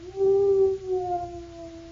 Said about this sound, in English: Jimmy's dog felt gloomy, too.